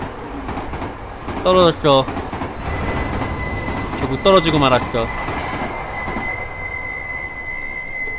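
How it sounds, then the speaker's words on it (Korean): A train runs at dusk in a steady, close rumble, with sustained high wheel squeals ringing over it for much of the stretch, while brief spoken lines cut in twice. "이게 해질녘 속 나란히 달리는 장례 전철이래요."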